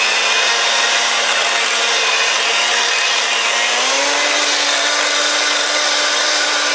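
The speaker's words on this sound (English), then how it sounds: "get my hand mixer out here, and I'm going to blend this up before we add the other ingredients" An electric hand mixer whirs steadily and loudly while blending a shrimp and crab baked potato filling. Its motor pitch rises slightly midway as the mix thickens, with no voices over it.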